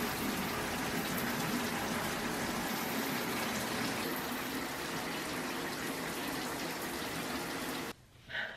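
Shower water pours in a steady, full hiss for about eight seconds, then cuts off abruptly.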